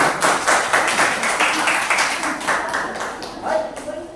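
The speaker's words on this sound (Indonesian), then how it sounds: "Kasih tepuk tangan dulu." A group of students claps in a classroom after a presentation, a moderate, uneven patter of hands that gradually thins out, with a voice briefly heard near the end.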